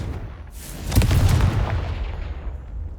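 Confringo blasting spell in Hogwarts Legacy, a single deep, rumbling explosion that swells after half a second and slowly fades over a couple of seconds.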